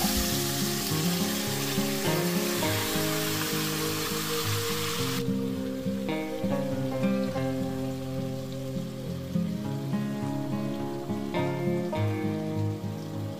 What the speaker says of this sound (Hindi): तो बस तेल गरम हो गया है तो इसमें डाल रही हूँ मैरिनेट की हुई वेजीज।